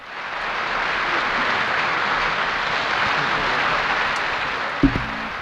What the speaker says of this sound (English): I think we should give him a big round of applause just for hanging out in Nashville